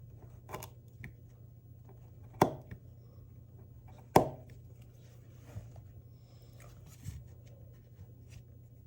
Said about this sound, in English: here we go with our first test, paracord chop. Only pushing straight down, not slicing